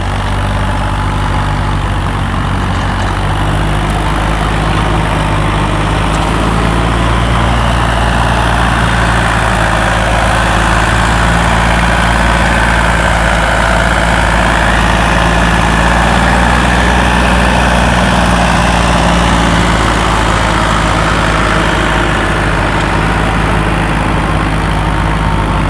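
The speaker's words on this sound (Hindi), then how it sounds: "ट्रैक्टर चलते हुए आपको रोटावेटर दिखाते हैं।" A tractor running with an Atma rotavator on a Punjab farm field gives a loud, steady, low engine drone that continues without a break the whole time, with no voices.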